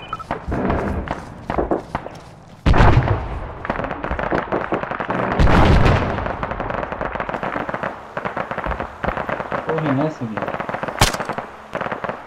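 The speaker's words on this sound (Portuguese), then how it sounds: "Tá atirando os caras lá." Gunfire in Arma 3 on Stratis, with rapid bursts and single shots cracking in irregular clusters, some near and heavy with loud thuds, under intermittent talking.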